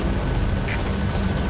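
An extraction helicopter arriving in Metal Gear Solid V: The Phantom Pain, heard as a steady, loud whirring rotor drone with a constant engine hum underneath, close and unbroken, with nobody talking.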